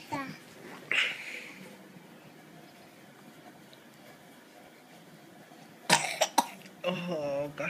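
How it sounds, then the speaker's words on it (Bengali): A young child coughs indoors: a quick cough near the start, a quiet stretch, then a cluster of harsh coughs and throat sounds, followed by brief small vocal noises, all close and fairly soft. "কাশি হয়েছে মামা, কাশি।"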